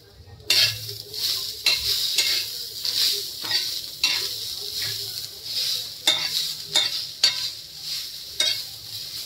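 Green chillies, grated coconut and curry leaves fry in a pan, a steady hiss broken by repeated scraping stirs at a regular pace, close and fairly loud with no talking.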